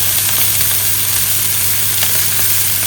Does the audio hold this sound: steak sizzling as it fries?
yes